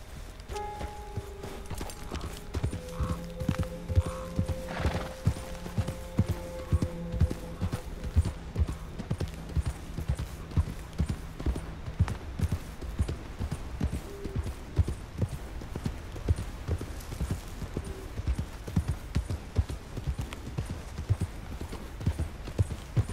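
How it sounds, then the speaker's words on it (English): A horse's hooves clip-clop at a steady walking rhythm in Red Dead Redemption 2, continuous and fairly close throughout, with faint background tones and a few brief voices in the distance. "Quite the horse."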